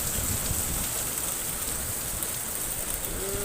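Steady rain falls out of season in February, a dense, even hiss of drops on surfaces with no voices and no pauses.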